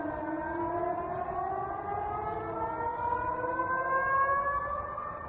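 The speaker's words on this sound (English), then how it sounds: "letting us hear the sound of air raid sirens over the city of Orenburg" Air raid sirens wail over the city of Orenburg in Russia, a sustained rising tone carrying across the town with steady outdoor noise beneath it, no voices.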